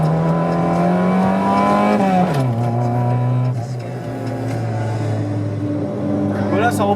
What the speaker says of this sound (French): Donc j'accélère, je débraye et j'enclenche rapidement une fois que je suis au bon régime moteur.